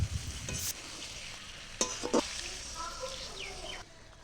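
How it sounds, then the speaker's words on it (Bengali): A spatula scrapes through sizzling spiced ridge gourd curry in a pan, with a few sharp stirring strokes over a faint background hiss, close by. "মশলাটা একই সঙ্গে ভালো করে নাড়িয়ে চাড়িয়ে"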